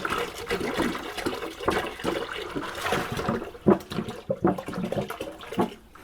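Water, 1.5 gallons of distilled water, pours into a container holding sliced cucumbers and alum for pickling, a steady splashing gush with a few louder sloshes near the end.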